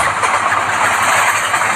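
Locomotive engine in a train video game running with a steady mid-pitched mechanical drone and hum, loud and close throughout, no speech.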